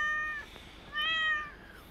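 A cat meows twice in a 1937 film scene, two clear drawn-out cries separated by a short pause, set against a steady low background hiss with no talk.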